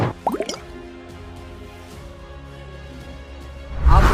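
Water rinses a limescale-cleaned tap after scrubbing, with splashy drips and squishes near the start, a steady low trickle through the middle and a louder gush of running water at the end.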